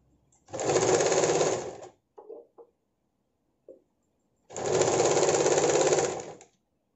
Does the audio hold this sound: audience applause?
no